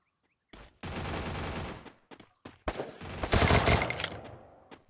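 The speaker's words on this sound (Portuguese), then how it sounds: "Nossa, tá chegando tiro, dois, né?" Gunfire in the game Free Fire crackles in rapid bursts, loud and close, with several volleys separated by short pauses.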